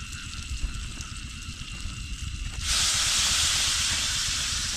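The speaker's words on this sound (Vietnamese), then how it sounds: "Xèo xèo" Food sizzles in a hot pan, a loud, bright hiss that starts abruptly partway through and holds steady, following quieter background noise with no talking.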